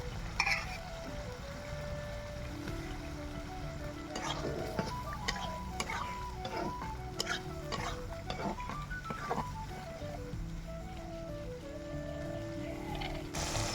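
Sliced tomato dropped into spiced oil in a village kitchen, with faint frying and stirring noises and a tonal hum running under them.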